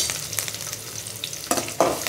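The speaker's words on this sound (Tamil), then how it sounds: "நல்லா வெங்காயம் சேர்த்துக்கிட்டு நல்லா வதக்கி விட்டுக்கலாம்" Onions sizzling and frying in a pan, with a couple of sharper scraping stirs near the end; no voices.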